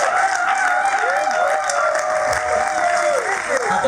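A church congregation applauds during a service honoring a woman minister: dense, sustained clapping with a few cheers, over a voice and a held musical tone.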